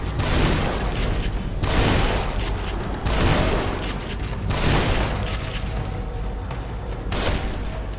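Gunfire from the survival horror video game The Evil Within, heavy booming shots landing every second or so, loud and reverberant over a dense, rumbling game soundscape with no talking.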